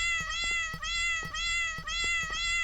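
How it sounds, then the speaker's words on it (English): Cat-shaped fireworks in Firework Mania let out a rapid string of loud meows, four or five overlapping calls in quick succession with sharp crackles between them, close and with no talking. "I hope you like the sound of cats"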